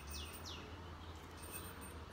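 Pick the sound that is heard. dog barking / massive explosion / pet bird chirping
pet bird chirping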